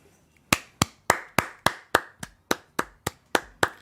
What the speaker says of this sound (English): That's me giving a round of applause to us for doing a really great show today.